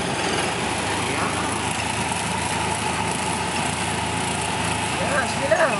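A car engine runs steadily through slow practice driving on a tight turn, a constant mid-level hum with no pauses, carrying on beneath a voice giving instructions.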